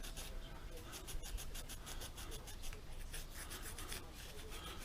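Old gasket material is scraped off a Yamaha Fazer 1000 motorcycle engine surface in quick repeated rasping strokes, faint and close, with a steady rhythm throughout.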